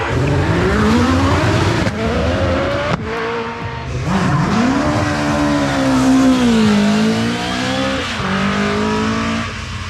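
A hillclimb race car at the British Hillclimb Championship screams past under hard acceleration, its engine note rising and shifting through gears with a sharp cut near three seconds, loud and close before easing away.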